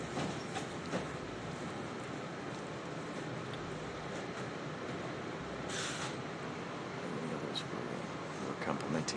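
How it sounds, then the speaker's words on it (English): A Los Angeles Metro Red Line subway train runs with a constant loud rumble and rattling wheel noise inside the car, with faint voices underneath. "Welcome aboard the Metro Red Line."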